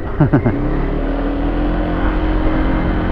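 An FKM Slick 150 motor scooter engine running close by with a steady loud hum, with a couple of quick rising throttle blips near the start.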